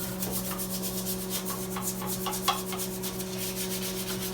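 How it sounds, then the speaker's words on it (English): A toilet brush scrubbing a toilet bowl, repeated close rubbing and scraping strokes over a steady low hum, with no talking. "you'll need your, of course, the toilet brush, and basically want to scrub"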